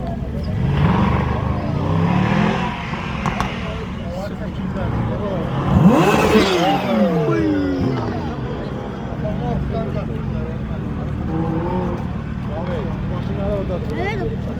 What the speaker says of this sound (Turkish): Motosikletler de geliyor.